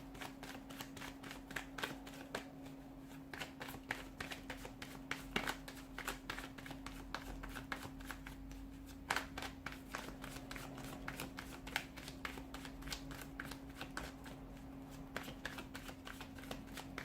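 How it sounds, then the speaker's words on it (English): A deck of tarot cards is shuffled by hand in a steady, soft riffling and slapping that continues for over fifteen seconds, quiet and close, with no voices. "Let's give the cards a shuffle and begin,"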